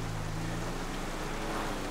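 Steady hiss of video game rain in GTA 5 fills the scene, broadband and continuous, with a low hum briefly present at the start.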